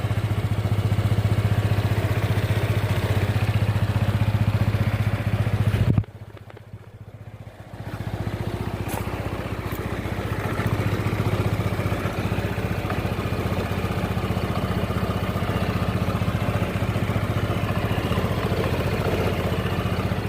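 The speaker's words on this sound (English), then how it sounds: "Here's the engine." Idling engine of a Honda PCX160 scooter, a steady low mid-pitched hum with light clatter, close and continuous, with a brief dip in level partway through.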